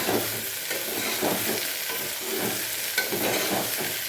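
Onions sizzle and fry with a splash of soy sauce in a pan, a steady close crackle with soft scraping stirs recurring through the few seconds, no voices.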